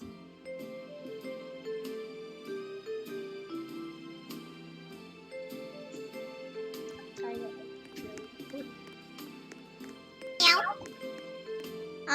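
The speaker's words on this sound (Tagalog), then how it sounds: "May aso nagmamiyaw" Soft, high meow-like cries come from a dog amid background chatter and faint music, with one brief louder squeal near the end.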